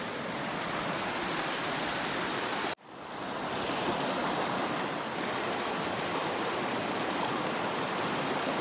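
A mountain stream rushes past a gravel bank, a loud, steady broadband wash of flowing water heard up close, briefly cut out once before resuming unchanged.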